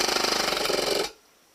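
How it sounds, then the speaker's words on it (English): Airsoft KWA MAC-11 firing full auto as the magazine is dumped: a fast, loud, steady mechanical rattle of rapid shots lasting about a second, then stopping abruptly into quiet. "I'm going to show you how fast I can dump the mag."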